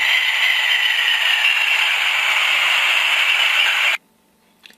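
Stock small speaker in an N scale Union Pacific Fairbanks Morse H-12-44 diesel switcher with a DCC sound decoder gives a steady, thin, rattly engine drone for about four seconds, then cuts off abruptly to near silence.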